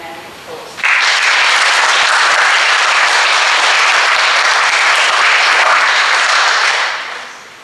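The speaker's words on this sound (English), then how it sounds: "everybody give them a round of applause" After a brief lead-in, a hall audience at a school certificate ceremony breaks into loud, dense, steady applause that holds for about six seconds and then tapers off.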